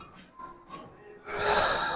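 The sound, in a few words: heavy breathing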